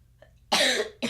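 A slight cough from a man during a game commentary: a faint throat sound, then one strong, close, harsh cough burst lasting about half a second, followed by the start of a second cough.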